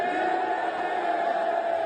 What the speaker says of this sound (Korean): 야유와 함께 물병이 날아듭니다.